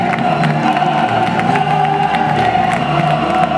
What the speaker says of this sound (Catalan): Un altre fort aplaudiment pels Diables del Casc Antic.